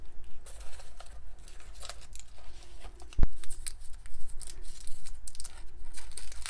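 A gift package of paint sealed with double-sided tape is torn open, giving soft crinkling and papery tearing with one sharp snap partway through, close and fairly quiet, with no talking.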